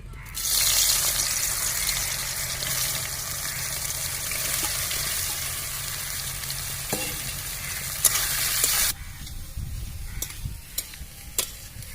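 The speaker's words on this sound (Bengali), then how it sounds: "এবার আমি সয়াবিনটাও হালকা ভেজে নেবো" Soybean chunks lightly frying in a pan, a steady hiss and sizzle with occasional stirring taps that drops suddenly quieter near the end, leaving faint crackles and clicks.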